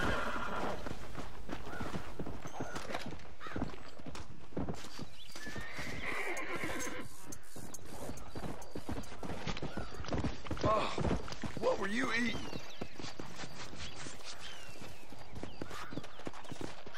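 A horse in the Red Dead Redemption video game whinnies and clip-clops along, hoofbeats steady and close throughout, with game ambience and a voice speaking over it.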